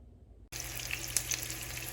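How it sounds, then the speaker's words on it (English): After a moment of near silence, hot oil in a frying pan bursts into a loud, steady sizzle with occasional crackles and pops. "the oil is sizzling"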